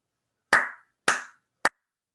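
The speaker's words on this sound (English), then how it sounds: "clapping along with something" Hands clap three times, sharp and close, the first two evenly spaced and the third quicker and shorter, alone against silence.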